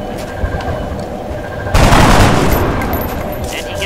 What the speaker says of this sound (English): He has to take shots and hope for criticals.